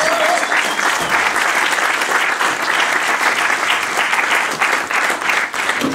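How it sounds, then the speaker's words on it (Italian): An audience applauds loudly and steadily at a music album presentation, sustained clapping from a full room. "Un applauso."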